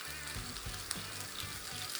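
Steak edge-searing in a Boohgle cookware pan, giving a loud, steady sizzle that runs continuously, with a low hum and a few faint clinks underneath.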